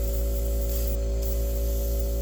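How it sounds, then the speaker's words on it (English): Continuous airbrush hiss of spraying paint over a steady low compressor hum, close and constant throughout. "Hopefully you can hear me over my airbrush compressor"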